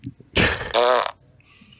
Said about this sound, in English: So there's 75 different farts on the fart app.